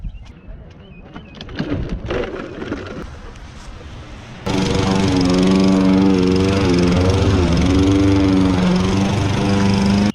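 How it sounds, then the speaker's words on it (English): A push lawn mower starts up and then runs steadily at close range, loud and continuous, while mowing a ditch, with birds audible faintly beforehand. "we're still gonna mow this ditch with the push mower"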